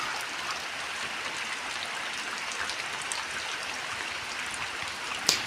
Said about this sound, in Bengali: এই যে টিনের চালের বৃষ্টি পড়তেছে, এই শব্দটা কার কার কাছে ভালো লাগে?